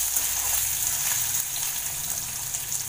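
Chopped potatoes frying in a pan of hot oil for sabudana khichdi, a steady close hiss and sizzle running evenly throughout with no talking.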